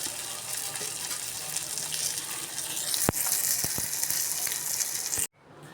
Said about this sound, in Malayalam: രണ്ടാമത്തെ സ്റ്റെപ്പ് ഇവിടെ എണ്ണയിലിട്ട് ഒരു വശം മൊരിഞ്ഞ് വന്നിട്ടുണ്ട്